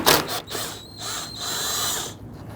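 Power tool whirring as it loosens a 10mm bolt on the lower inboard side of a 2011-2017 Nissan Quest headlamp, a steady close buzzing drone lasting a couple of seconds with brief dips.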